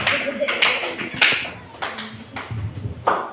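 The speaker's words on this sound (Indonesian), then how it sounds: "Kasih aplaus dulu kelompok C ya" A classroom group applauds group C in a short burst of clapping and taps, lasting a few seconds, while voices talk over it.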